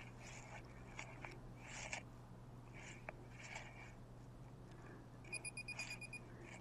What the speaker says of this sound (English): here is the alarm going off